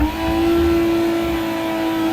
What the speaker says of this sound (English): It's a little harder because you need enough power to be able to do a second gear burnout.